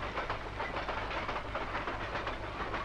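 A moving passenger train, heard as a loud, continuous rumble with rhythmic clattering of wheels on the rails and a broad rushing hiss, steady throughout with no speech.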